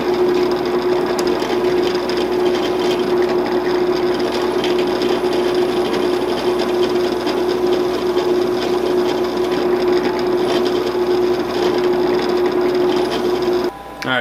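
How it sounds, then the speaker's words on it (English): A drill bores and taps holes in a PC case rear panel, giving a loud, continuous, even buzzing whine that holds steady until a sudden stop at the end. "I'm going to go ahead and get this drilled and tapped and kind of mount it in place"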